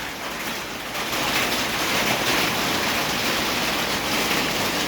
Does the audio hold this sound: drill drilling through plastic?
no